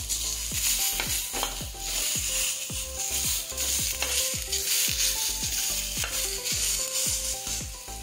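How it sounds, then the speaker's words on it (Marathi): Onion with a ground spice and coconut paste frying in a little oil, a steady close sizzle broken by repeated scraping stirs of a spoon against the pan. "एकदम थोड्याशा तेलामध्ये आपल्याला हे वाटण भाजून घ्यायचंय."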